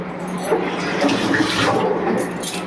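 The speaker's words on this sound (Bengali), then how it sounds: "হাতটা ধুয়ে নিই" Hands are rinsed under running tap water in a home kitchen, a close, continuous splashing gush lasting a few seconds.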